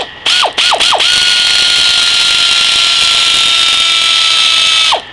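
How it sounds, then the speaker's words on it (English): A half-inch pneumatic air tool gives a few quick bursts, then a loud, sustained high-pitched whine for several seconds that winds down at the end, close up with no talk. "I've got a half inch air tool here."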